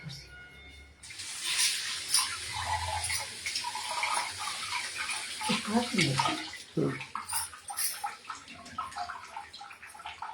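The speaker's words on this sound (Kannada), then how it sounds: "ನಾನು ಕೈ ತೊಳ್ಕೊಬರ್ತೀನಿ" Hands washed under a running tap in a home kitchen: a steady splashing stream with gurgles and shifting spatter as the hands move through it, close and fairly loud, ending in drips and the tap turning off.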